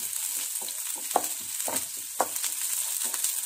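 Onions fry in oil with a soft, steady hiss, while a utensil stirs and scrapes through them in uneven strokes, near and unaccompanied by speech.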